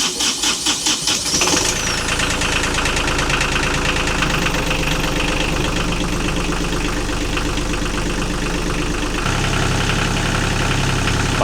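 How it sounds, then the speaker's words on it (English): A Volvo D1-30 marine diesel engine on a boat, just back from a full service, runs loudly and steadily after a brief uneven start, with a continuous rumbling idle. "Turn the seacock back on, and then you hope that it's all right, and you run the engine for like 5 minutes"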